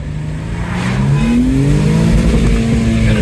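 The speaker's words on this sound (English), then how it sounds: "There's actually a rev limiter that kicked in" A Jaguar XE S AWD in sport mode, downshifted and revved hard, its engine note climbing and sweeping up in pitch, loud and close from inside the cabin, with no talk over it.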